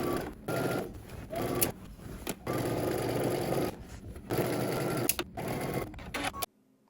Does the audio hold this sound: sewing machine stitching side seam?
yes